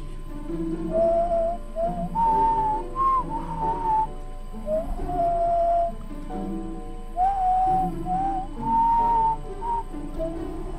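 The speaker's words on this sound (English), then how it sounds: "I mean, I think if it's just a death whistle, I'm pretty sure I could just do that fine." A person whistles a drawn-out, mournful death-whistle melody up close, several wavering phrases separated by short pauses, with a steady faint hum behind and no talking.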